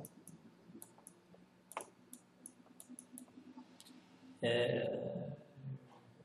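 Light, scattered keyboard clicks come from typing a chmod command at a Linux terminal, some in quick clusters, over a soft background hum with speech nearby.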